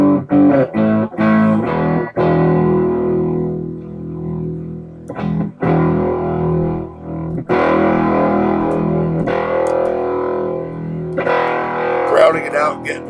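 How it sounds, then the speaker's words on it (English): Electric guitar with a light crunchy overdrive from a Ruby Doobie pedal, strummed chords and short riffs with choppy stops, fairly loud and close. "Just a little bit of crunch with the guitar top."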